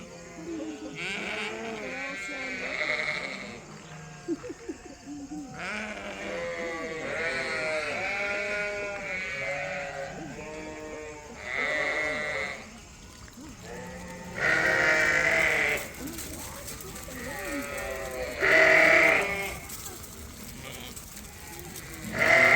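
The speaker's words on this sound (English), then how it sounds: "So right now we're gonna let the lambs out so that they can see the girls and watch them in the paddock" Black Suffolk and white Dorset sheep and lambs bleat repeatedly in a paddock, a mix of deep and higher calls, loud and close, with people talking between the cries.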